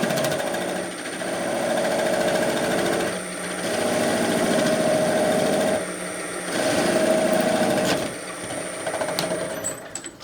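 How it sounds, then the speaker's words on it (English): Sandpaper held against a turned wooden hollow form spinning on a lathe, giving a steady loud whirring hum that swells and dips in three or four long passes, with no talking. "I'll just use a little sandpaper to clean up the very end."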